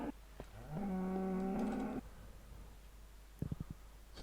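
Cows mooing in Minecraft: one long, loud, steady moo with a rising start fills the middle of the clip, followed by a quieter scatter of short clicks and thuds.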